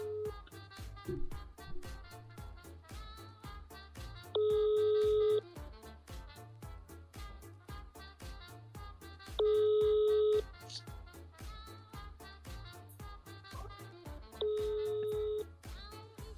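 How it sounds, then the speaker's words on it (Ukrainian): A phone call is placed in a game, with a run of rapid electronic keypad tones and ringback tones that repeat about every five seconds, clean and steady with no talk. "Зараз дзвоню йому."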